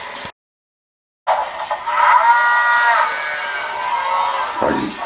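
Cattle moo loudly and repeatedly from close by aboard a cattle train, a long bellowing chorus after a brief silence, with a rumbling background.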